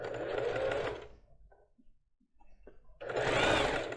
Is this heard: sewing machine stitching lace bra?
yes